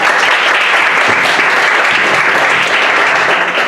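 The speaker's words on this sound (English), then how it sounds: "Give yourselves a hand of applause" Workshop attendees give themselves a hand: a thick, continuous wash of applause, loud and even throughout, with no pauses or talking over it.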